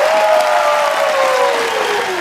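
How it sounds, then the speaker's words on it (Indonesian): An audience bursts into loud, continuous applause on a talk show set, many hands clapping close and full, with a sustained tonal sound sliding downward underneath. "Tepuk tangan dong"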